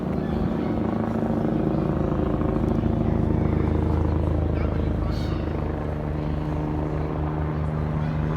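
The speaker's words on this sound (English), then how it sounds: "Helicopters obviously looking for something at the moment." A helicopter's steady rotor drone fills the air overhead along the Regent's Canal in London, loud and continuous, with faint background noise throughout.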